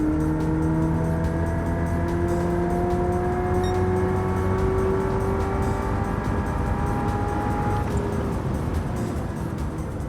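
Hyundai Ioniq 5 N accelerating with overtake boost in Gran Turismo 7, a steady synthetic electric-motor whine with rising tonal layers that climb in pitch, loud and continuous throughout.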